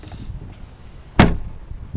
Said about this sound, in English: Press this one, it just opens your glass.